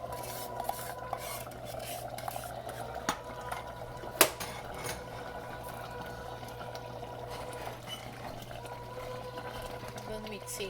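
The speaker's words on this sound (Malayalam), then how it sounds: "ഇതൊന്ന് മിക്സ് ചെയ്ത് നോക്കാം." Pumpkin and bean erissery curry stirred in a pot, a faint scraping and clinking of a spoon against metal with an occasional sharp knock, under a low steady background hum.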